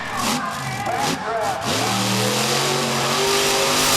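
A truck engine revs hard while spinning donuts down the front stretch of the dirt track at Charlotte Motor Speedway, the pitch climbing and holding high and loud, with a commentator talking over it.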